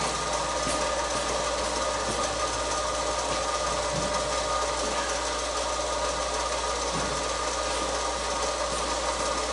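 A wood lathe spinning a wine glass turning project at roughly 800 to 1100 RPM gives a steady, continuous motor whir with an even mechanical drone and faint ticks, holding constant for the whole stretch.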